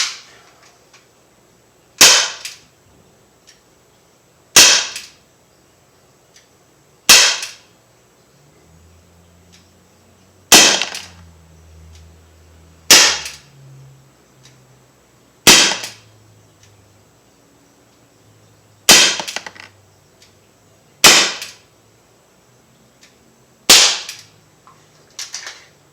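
An Umarex SA-10 .177 caliber air pistol fires pellets in about ten sharp, snappy pops spaced a couple of seconds apart, close and loud, with faint low mechanical sounds between shots.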